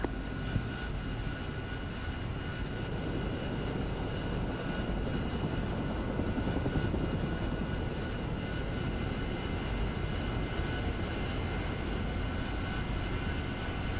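An AV-8B Harrier jet taxis in the DCS World flight simulator with a steady, droning engine roar that holds at an even level throughout, with no voices.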